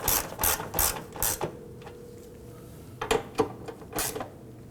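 Ratchet tightening the fuel tank strap nuts on a 2005-2009 Subaru Legacy 2.5L H4, using replacement hardware: quick clicking bursts in two separate groups with a short pause between them, close and fairly quiet.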